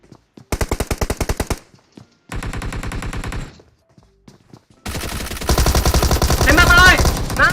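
Bursts of automatic gunfire in the mobile battle royale game PUBG Mobile, two rapid volleys separated by pauses, then a longer, louder sustained stretch of shooting and effects, with brief voices in between.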